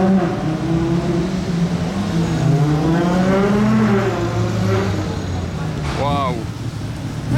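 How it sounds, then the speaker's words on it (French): Ferrari Monza sports car sweeping past with a rising then falling engine note and revving, close and loud, with excited French voices talking over it. "la Monza elle a fait un très bon bruit"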